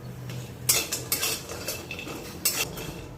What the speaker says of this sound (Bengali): বড়িটা এবার হালকা লাল করে ভেজে নেব।